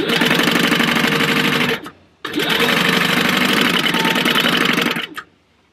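A sewing machine stitches purse card slots with a quarter-inch seam, running in two fast continuous bursts of rapid needle clatter separated by a brief pause, loud and close with no talk.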